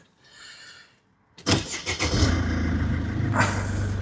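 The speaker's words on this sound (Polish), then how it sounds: "To co, odpalamy motorownię." A Mercedes E 220 CDI W211 diesel engine cranks briefly after a soft chime, catches and settles into a steady idle, with a slight rise in revs near the end, close and loud.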